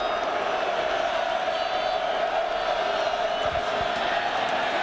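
A large football stadium crowd roars steadily at Memorial Stadium during a 1999 California vs Nebraska game, a dense, loud and continuous wash of cheering with no distinct breaks.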